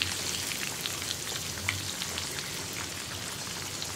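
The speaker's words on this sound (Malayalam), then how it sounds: "അപ്പോൾ മീൻ എന്താ ഫ്രൈ ആയി വന്ന് തുടങ്ങി" Fish fries in a pan for a Kerala-style fish fry, giving a continuous fine sizzle and crackle with scattered louder pops, fairly quiet and steady throughout.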